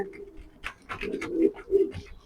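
Racing pigeons coo nearby in soft, low, rolling calls that swell and fade in a few uneven pulses.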